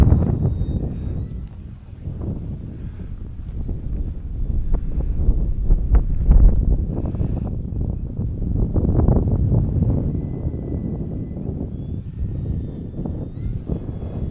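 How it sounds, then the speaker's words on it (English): Strong gusty wind buffets the microphone in a steady low rumble on a windy day at an RC flying field where a Turbo Timber Evolution plane is flown, with an engine whine faintly underneath. "Holy wind."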